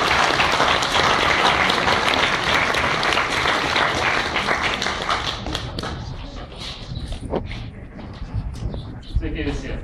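Audience at a university talk in Kaunas applauding to welcome the speaker, loud dense clapping that thins into scattered claps and fades toward the end, with a few murmurs under it.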